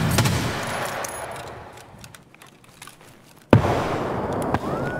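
Grenade blasts in a video game: a burst of sharp, cracking detonations at the start, a quieter lull, then another loud explosion about two-thirds of the way through with crackling debris and faint background noise.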